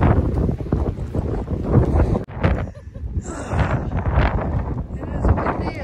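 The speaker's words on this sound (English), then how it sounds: "It is windy and cold today" Gusty wind buffeting the microphone on an open cold day near Coyote Buttes North, a continuous rough rumble swelling and easing, with a person talking over it.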